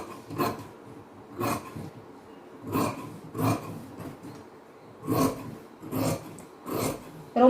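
Scissors cut through fabric for a chudidhar top in a tailoring class, heard as quiet, close, rhythmic rasping snips repeating about once a second with brief pauses between.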